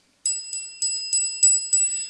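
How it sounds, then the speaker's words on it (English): A hand bell rings six times in a steady rhythm, each bright metallic strike ringing out before the next, close and clear with no talking over it. "I've been instructed that wherever I go, I have to bring my bell."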